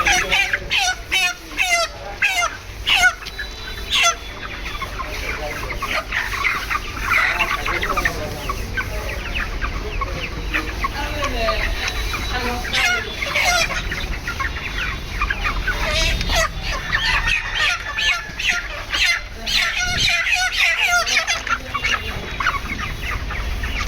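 Live broiler chickens at a vegetable and fish market, continuous dense clucking and squawking close up, with people talking throughout amid market bustle.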